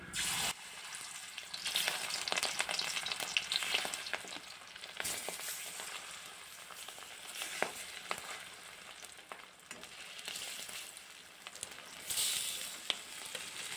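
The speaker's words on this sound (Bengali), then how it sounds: "এখন একটা একটা করে মাছের পিস তেলের মধ্যে ছাড়বো।" Pieces of pangasius fish frying in hot oil in a kadai, giving a steady, crackling sizzle with scattered pops that continues throughout, close and moderately loud.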